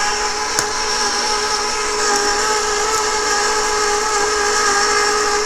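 Electric mixer beating eggs into cookie dough at a lowered speed, a steady motor whine that runs continuously at even volume, close by, with a faint tap near the start and no talk.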